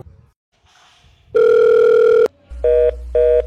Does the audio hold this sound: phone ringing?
yes